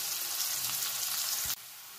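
Grated ginger hits frying onions in a pan for cabbage and koi fish curry, a steady close hiss of sizzling that cuts off sharply near the end, with no talk.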